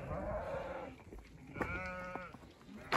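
Sheep in a Turkish flock bleat loudly and close by, one long quavering call followed by a second harmonic-rich bleat, with outdoor farm background and no talking.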